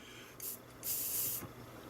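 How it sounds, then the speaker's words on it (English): Flux fizzes and hisses under a hot soldering iron while desoldering a chip on a ZX Spectrum 128K +2 Grey board, two soft close sizzling bursts, the second longer, with no talking. "It will make the fizzing noise because it's"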